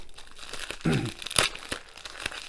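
A padded envelope is torn open by hand, with crinkling, a short ripping tear and a few sharp crackles of strong glue and paper, heard close with no talk.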